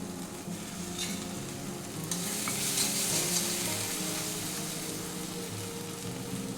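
Cashew and melon seed paste frying in oil-released masala for an egg curry, a steady, close sizzle with faint scraping stirs throughout and no talk.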